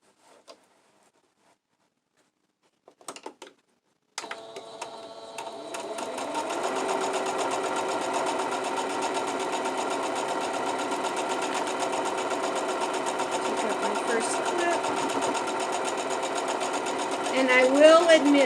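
A sewing machine stitches quilt seams, starting after a few faint clicks and then running in a long, steady close-up whir that grows a little louder near the end as it crosses the thick seams.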